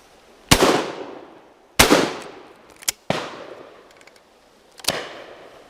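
Four sharp shotgun blasts at a driven game shoot on Leighton Long Mountain, spaced irregularly over a few seconds, each loud and close with a rolling decay into open countryside.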